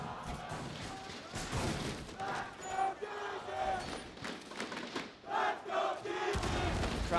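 An esports arena crowd roars during a Rainbow Six match between Astralis and DZ at the 2022 Six Charlotte Major, a loud, continuous surge of cheering with swelling bursts, with voices speaking over it.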